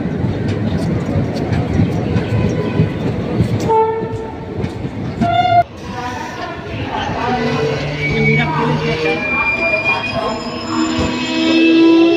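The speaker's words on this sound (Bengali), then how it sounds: "মাতারা এক্সপ্রেস কিন্তু চলে এসছে নৈহাটি রেলওয়ে স্টেশনে" Maa Tara Express, hauled by locomotive 30204, rolls into Naihati railway station with loud rumbling wheels and squealing brakes, horn-like tones rising midway, and a sharp high squeal as it slows near the platform.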